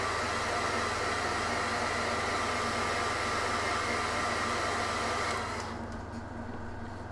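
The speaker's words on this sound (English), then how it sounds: "Hit him with the hairdryer." Hair dryer blowing on a freshly painted miniature figure, a loud steady whooshing roar with a faint high whine that cuts off near the end, leaving quieter background hum.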